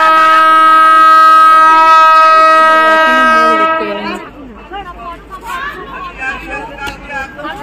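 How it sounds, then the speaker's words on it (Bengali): A train's horn blares loud and sustained for several seconds on a crowded platform, then cuts off, leaving busy crowd chatter and murmuring voices. "আর ট্রেনে উঠে গেছি সবাই"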